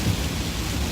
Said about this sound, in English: A lot of rain right now, so, I mean, I hope you guys can still hear me.